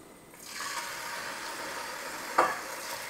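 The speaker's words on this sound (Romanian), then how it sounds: "O prăjesc așa, la foc măricel, până când aproape se rumenește." Beef for goulash sizzles steadily in a pan over medium-high heat, a continuous close frying hiss with one brief louder scrape or stir near the end.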